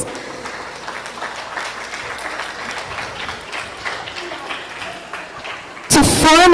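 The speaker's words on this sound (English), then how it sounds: "Let's give a warm round of applause to our speakers." Audience claps for speakers at a culture guide launch and roundtable event in Manila, a moderate, even patter of applause that cuts off near the end into a sudden loud, tonal burst.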